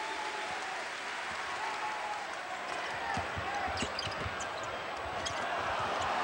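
Crowd noise fills a college basketball arena at a Gonzaga Bulldogs versus Washington game, a steady roar with scattered claps and shouts, ball bounces and squeaks audible beneath.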